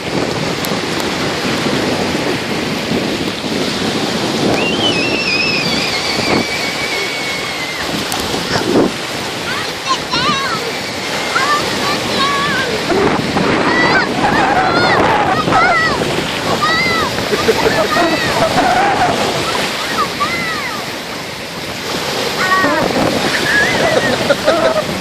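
Ocean surf washing onto a beach, a continuous wash of waves mixed with wind buffeting the microphone, with children's voices and shouts over it.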